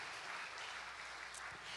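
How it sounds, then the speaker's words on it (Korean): Applause from a church congregation, a steady dense wash of many hands clapping, moderately distant and even, with no talk over it. "우리 사모님들에게 박수를 좀 쳐드리고 갑시다"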